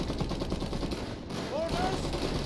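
Rapid machine-gun bursts fire from a bunker in the strategy game Iron Harvest, a dense, loud rattle of gunfire that runs the whole time amid other battle noise.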